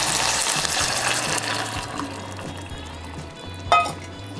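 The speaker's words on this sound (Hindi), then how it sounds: "अब हम इसमें फेंटा हुआ अंडा शामिल करेंगे" Beaten egg poured into softened onions and tomatoes in a pan for anda ghotala, a broadband watery sizzle with light stirring throughout and a brief louder splash near the end, no talking.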